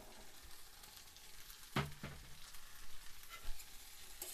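Boiled chickpeas and fried potatoes stirred into masala in a pan for a chana paneer curry, with a soft steady sizzle, a sharp spoon scrape near the middle and a few light stirring knocks afterward.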